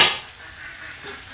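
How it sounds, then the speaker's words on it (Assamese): Potatoes being fried in a pan are given a quick stir: a short scrape and clatter at the start, then a soft, steady sizzle for about a second, close by. "এয়া আলু ভাজি বনাইছোঁ এনেদৰে।"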